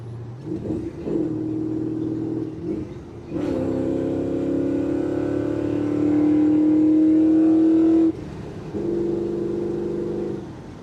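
Car engine in a five-speed manual revving hard after dropping two gears, a loud sustained drone that climbs steadily in pitch, cuts off abruptly, then resumes at a steady higher idle-like hum.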